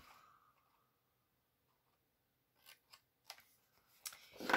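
Paper being cut at an angle for a scrapbook page, a few short soft snips and clicks near the end after a quiet stretch, close and faint.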